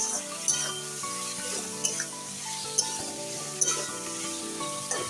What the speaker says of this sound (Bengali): কুমড়ো বেগুনটা দিয়ে আমি ভালো করে নেড়ে চেড়ে নিচ্ছি।